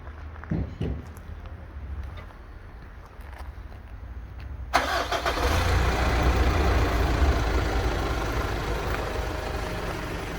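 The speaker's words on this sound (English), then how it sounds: "we installed remote engine start, so you can even start your car" A Mitsubishi Shogun engine, started remotely, turns over and catches at once, then settles into a steady, close idle that keeps running without interruption.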